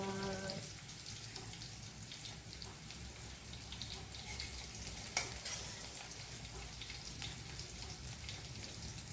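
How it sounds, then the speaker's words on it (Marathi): Onion frying in a pan, a steady soft sizzle with faint stirring and occasional clicks, continuous and fairly quiet throughout. "कांदा परतून लाल झाला"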